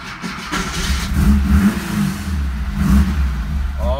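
A Porsche 914 engine revs close by after a stainless steel fuel line install, a loud, steady mid-pitched drone that swells and eases in repeated blips of throttle.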